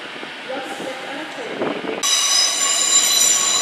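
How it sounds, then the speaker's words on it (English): A London Overground train passing through London Euston station, loud rumbling rail noise that turns into high, bright wheel squeal partway through, close and continuous. "Passing now is the London Overground service to Watford Junction."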